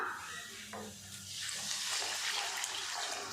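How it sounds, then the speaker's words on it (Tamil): Water poured into a pan of sautéed vegetables and masala for a vegetable curry, with a steady splashing hiss and some sizzle over a few seconds and no talking. "காய் மூழ்கிற அளவுக்கு தண்ணி சேர்த்துக்கலாம்"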